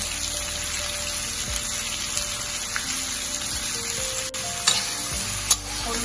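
Turmeric is added to food frying in a pan while a spoon keeps stirring it; a steady close sizzle runs throughout with soft scraping strokes and a few small clinks, and no voices.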